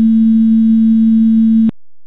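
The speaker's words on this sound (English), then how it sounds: "the illustrations below show sinusoidal motion, which is a gentle, mellow sound," A pure, steady sine wave tone, loud and unwavering, holding alone for nearly two seconds before cutting off abruptly.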